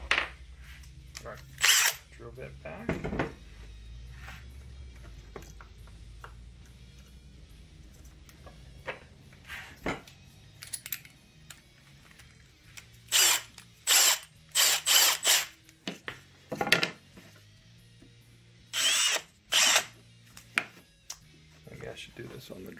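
A power drill fitted with a 5/16 bit whirs in repeated short bursts, some brief and some longer, separated by quiet pauses and faint clicks.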